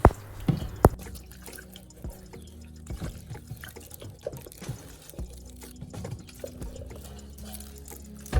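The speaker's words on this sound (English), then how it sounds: "We will also wash the pineapple thoroughly, after which we'll peel it." Water trickles and drips over a pineapple being washed by hand, with a few sharp knocks near the start, then soft, uneven splashing and running water close by at low volume.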